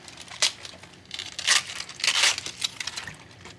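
Knife slicing through small cabbage heads in a home kitchen, several crisp crunching cuts at irregular intervals, close and fairly loud with no talking.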